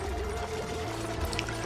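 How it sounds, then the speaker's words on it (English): Water draining in the game Oxygen Not Included, a soft, continuous pouring and gurgling flow heard quietly and alone, with faint bubbly tones near the end. "So the water's draining."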